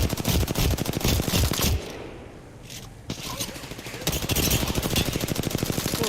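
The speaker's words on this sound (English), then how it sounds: "Opening fire on the enemy." Rapid automatic weapon fire rattles through an Apex Legends firefight, a loud continuous stream of shots that drops out briefly in the middle for a quieter gap, then resumes just as dense.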